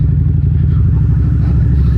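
Harley-Davidson V-Rod Muscle 2012 motorcycle pulling away, its engine a loud, steady deep rumble with rapid low pulsing close by, no voices over it.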